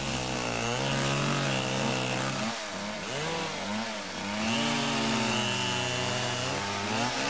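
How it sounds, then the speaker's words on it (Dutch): A chainsaw bought secondhand in a shop in the Netherlands runs loud and close, its engine note rising and falling steadily with no pauses and no talk over it. "werd ik voor 1000 gulden de bepaald niet trotse eigenaar van deze kettingzaag"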